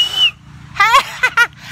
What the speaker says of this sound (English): you don't know how to whistle like with your fingers